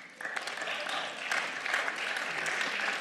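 Members of the Berlin state parliament applaud during a rent-cap debate, a fairly quiet, continuous patter of many hands clapping across the chamber, with faint murmuring voices mixed in.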